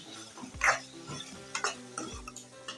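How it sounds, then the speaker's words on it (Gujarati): Chopped tomatoes are stirred into onions in a pan for a Kathiyawadi dahi bhindi curry, a few soft scraping strokes with quiet wet squelches, close and unaccompanied. "હવે ટમેટાને આપણે સરસ રીતના હલાવી અને મિક્સ કરી લેવાનું"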